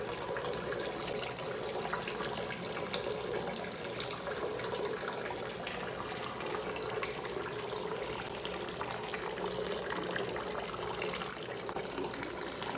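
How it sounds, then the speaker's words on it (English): Hot water at 170 degrees streams steadily and gently over a grain bed in a mash tun while brewing a Belgian Tripel, a continuous soft, even pour with no talk. "We're just pouring gently over the top because we don't want to disturb this grain bed."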